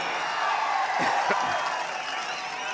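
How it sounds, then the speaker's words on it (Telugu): A large political rally crowd claps and cheers in a steady roar of applause and whoops, with a voice over a loudspeaker briefly audible amid the noise. "అందరూ చప్పట్లు కొట్టి అభినందించండి వాళ్ళని"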